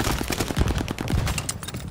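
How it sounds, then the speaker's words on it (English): Gunfire from a hostile aircraft strafing run during a Domination match in Call of Duty: Vanguard, a loud, rapid burst of overlapping shots and impacts rattling steadily for two seconds. "Hostile strafe inbound."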